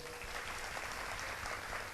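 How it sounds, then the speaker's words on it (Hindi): An audience at a devotional discourse claps for two seconds, a fairly quiet wash of many hands. "मजा आ रहा है तो एक बार ताली बजाओ।"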